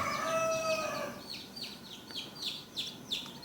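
A newborn chick struggling to hatch from its egg chirps loudly in a run of repeated high, sharp peeps with short gaps between them. The peeps sound close and carry over faint background noise.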